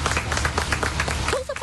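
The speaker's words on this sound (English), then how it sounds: "Firefighters got a big round of applause this morning as they brought out a man who they freed from tornado damage" Crowd applause for firefighters bringing a man out of tornado damage, dense clapping close by for a short burst, with a voice rising over it.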